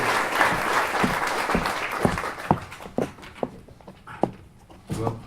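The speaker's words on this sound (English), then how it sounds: "please join me in giving him a warm round of applause" A crowd at an outdoor rally in Mt. Pleasant, South Carolina, opposing offshore drilling, applauds a speaker. Dense clapping thins into scattered individual claps before a final short swell.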